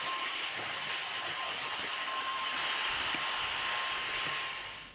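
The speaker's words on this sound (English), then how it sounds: "it's time to crack out the vacuum, hoover up all our woolly mess" A vacuum cleaner hoovering woolly carpet fluff off a stair runner gives a steady, loud motor whine with a thin tonal hum, running alone throughout and easing off at the very end.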